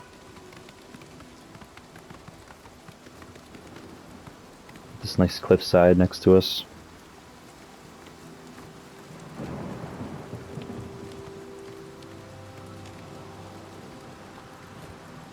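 Steady rain in The Elder Scrolls IV: Oblivion falls as a soft continuous wash throughout, with a low rumble of thunder near the end, while someone talks over it.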